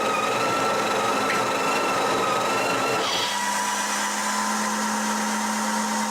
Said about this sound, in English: stick it in, and it grinds and tamps automatically